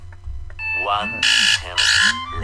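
An alarm sounds in loud, buzzing bursts, each a harsh tone pulse repeating in a steady rhythm, with a voice speaking over the start.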